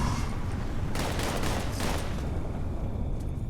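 A Gatling gun fires in Fallout 76 on PC as a dense, continuous rattling barrage, loud and near, swelling briefly in the middle before settling into a steady roar.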